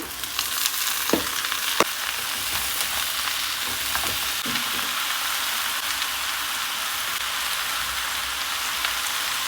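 Chopped bottle gourd frying with small mola fish in a pan: a steady, loud, close sizzle that hisses on without pause, with a few faint stirring knocks and no talking.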